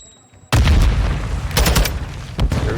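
A grenade goes off in a Call of Duty match with a sudden loud boom, and a rumbling tail and a couple of sharp follow-up cracks come after it.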